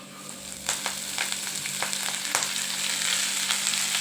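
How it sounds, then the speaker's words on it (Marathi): Fenugreek leaves fried briefly in a pan for lasooni methi crackle and sizzle close by, with a soft start and then quick spatula scrapes ticking through a steady frying hiss. "आपल्याला याला जास्त शिजवून नाही घ्यायचे, आपण नॉर्मली थोडीशी फ्राय करून घ्यायची फक्त"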